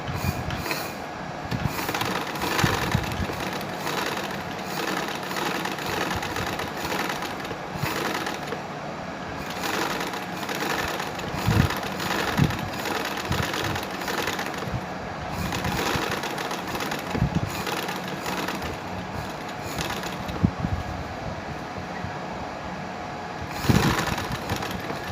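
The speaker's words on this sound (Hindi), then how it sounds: "अब हम इसको यहाँ से सिलाई लगाएंगे।" A sewing machine stitches trouser fabric with a continuous close mechanical whir and rapid rattle, a steady run with small dips and bumps as the cloth is fed.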